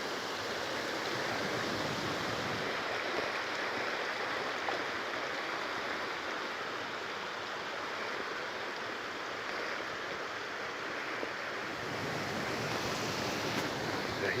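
Stream water rushing beneath a small wooden trail bridge on Windsor Trail in New Mexico, a steady, fairly loud broadband wash that holds constant throughout with no speech.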